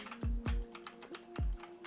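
A few sharp, clacky keystrokes on an Everest KB-MK7 mechanical keyboard with a metal case, close and distinct, with brief pauses between presses.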